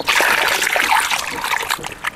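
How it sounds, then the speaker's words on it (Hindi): Peeled potatoes and taro being washed in a pot of water for a village-style curry, with continuous splashing and sloshing close by, steady and fairly loud throughout. "अब आलू और कच्चू को धो लेते हैं अच्छे से।"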